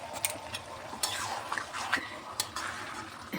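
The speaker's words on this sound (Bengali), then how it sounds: "সব মশলা আর জলটা একটু মিশিয়ে দিলাম।" Spices and water get stirred together in a pan for a Bengali dal dhoka dish, giving soft scraping and clinking strokes at an irregular pace, close and fairly quiet.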